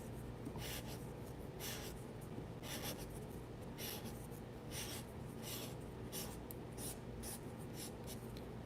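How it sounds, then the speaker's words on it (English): A paper blending stick is rolled and scraped against sandpaper, giving repeated soft, close, gritty rasping bursts in an uneven rhythm, quiet and intimate without any talking. "Just roll it onto the sandpaper."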